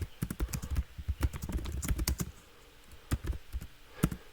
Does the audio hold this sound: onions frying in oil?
no